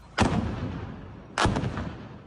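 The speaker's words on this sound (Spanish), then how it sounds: "A las 6:20 de la mañana se empezaron a escuchar las explosiones en el municipio del Tambo" Two heavy blasts from a guerrilla attack in El Tambo, Cauca, Colombia, each a sharp boom with a rumbling tail, about a second apart and heard alone.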